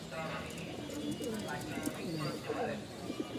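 Almond pigeons, a cock and a hen kept as a pair for sale, giving repeated low rolling coos that overlap one another against a background murmur of voices.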